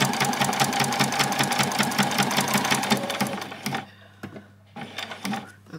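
A sewing machine runs a steady, rapid line of straight stitches through a doll's dress, close and loud, then stops and restarts in short bursts.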